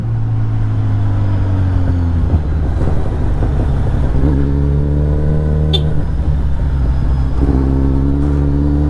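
On a first ride, a motorcycle engine revs loud and close, its pitch rising and falling in repeated surges over a constant running drone, with no voices.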